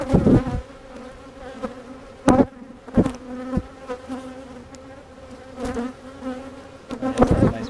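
Honeybees hum steadily around an open hive during a mid-February spring inspection, a close, continuous buzz punctuated by louder passes and occasional knocks of frames being handled.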